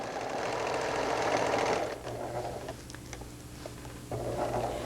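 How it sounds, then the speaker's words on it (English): A sewing machine stitching a sweater sleeve seam toward the underarm, running as a loud, steady close whir that pauses for a couple of seconds with faint clicks, then starts up again. "Now I'm sewing up the sleeve edge and I'm approaching the underarm point."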